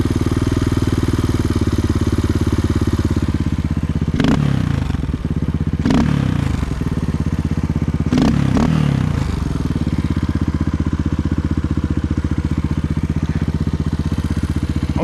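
A Suzuki DR200 motorcycle engine idles slightly high and hot, a steady loud thrum with a few brief clattering scrapes of handling mixed in, no talk.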